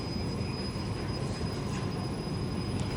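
LRT train rolling past, a dense loud rumble of wheels on rails with a faint high squeal, continuous and near for the whole stretch, no talk.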